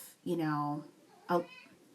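A pet cat meows twice, a long drawn-out cry followed a second later by a shorter one, both close and clear with no talk over them.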